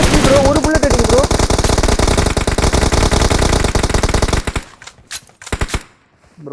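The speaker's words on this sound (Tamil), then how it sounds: "ஒரு புல்லட் அடிச்சிருக்கான்" Rapid automatic gunfire in a shooting video game, loud dense bursts for several seconds, then a few sparser shots fading toward quieter gaps.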